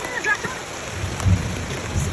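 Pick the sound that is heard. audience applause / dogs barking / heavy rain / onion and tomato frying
heavy rain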